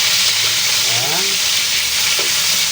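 Chicken pieces fry in a pan until golden brown for a creamy chicken mushroom dish, a dense close sizzle that runs continuously, with faint scraping stirs partway through.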